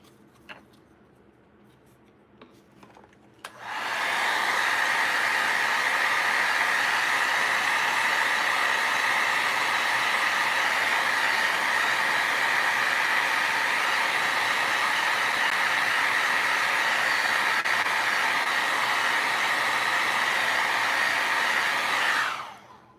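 A heat tool dries Pentart cracking paste with a loud, steady blowing whir. It switches on after a few quiet seconds and runs close and unbroken for about eighteen seconds before cutting off.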